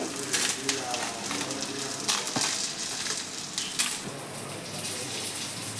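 A dozen Byadgi chillies crackle and sizzle in hot oil, with a dense, continuous frying hiss broken by sharp pops and spits close by.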